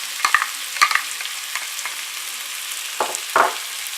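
Onions hitting hot oil in a pan while garlic-ginger paste and cumin are readied for rose momo, giving short sizzling bursts and faint stirring scrapes, then two louder crackling spurts near the end, no talking.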